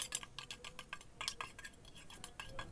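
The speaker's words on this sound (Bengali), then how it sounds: "সবগুলো মিশিয়ে নিলাম এই ডিমের বাটিটার মধ্যে" A utensil stirs chopped green and red chillies, finely minced ginger and salt into a bowl of eggs for an omelette curry, giving quick repeated clinks and scrapes against the bowl in an uneven rhythm, close and fairly quiet.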